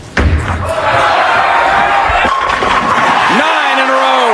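A bowling ball slamming into the pins at a 2005 PBA El Paso Classic final, one heavy crash followed by a loud roaring, cheering crowd, with an announcer's voice under the noise.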